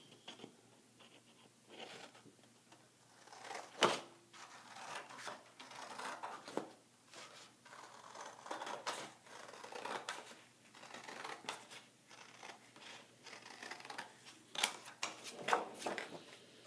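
Scissors snip and rustle through paper while cutting out a Valentine's wall art craft, with soft, irregular scratchy cuts and crinkles continuing at close range, a few sharper snips standing out.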